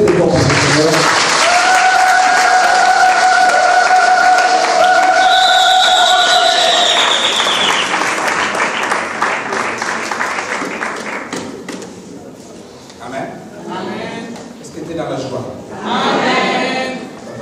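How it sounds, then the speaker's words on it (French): A church congregation applauds loudly for the Lord, with a sustained tone and voices over the dense clapping at first, then the applause thins into scattered claps and crowd noise with a final swell. "On acclame très très fort pour le Seigneur"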